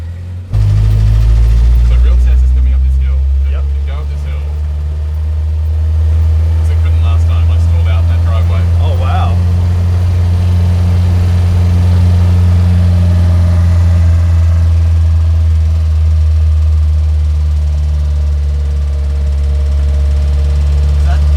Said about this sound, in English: we're sort of getting just exhaust gases come through, and that's what's making the noise